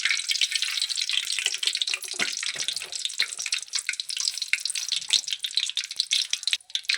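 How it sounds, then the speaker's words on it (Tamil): Mustard seeds spluttering in hot oil in a pan for fish curry, a rapid, crackling stream of tiny pops and sizzles, close and steady throughout. "கடுகு பொரிஞ்சிடுச்சு"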